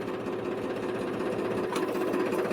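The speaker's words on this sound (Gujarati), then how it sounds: "હવે સેલ મારી છે ટ્રેક્ટરને." A tractor engine, just started with its self-starter on a farm, runs with a steady, close mechanical chug and rattle for the whole stretch, with no talking.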